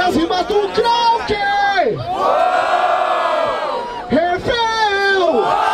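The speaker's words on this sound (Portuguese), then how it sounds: "Mas barulho para as rimas do Krauk!" A crowd at a rap battle semifinal in Barueri, São Paulo, cheers, whoops and shouts loudly and continuously, with voices bellowing up close over the roar.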